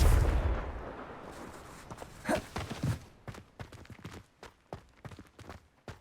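A Confringo fire spell cast in Hogwarts Legacy, a loud whooshing blast at the start fading into a rumble, followed by a run of sharp, evenly spaced crackling impacts.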